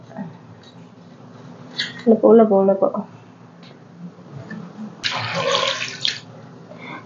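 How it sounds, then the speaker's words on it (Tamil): Water is poured into a cooking pot of prawns in a brief splashing burst lasting about a second, with murmuring voices and other kitchen sounds before it. "கொஞ்சமா தான் தண்ணி ஊத்திருக்கேன்"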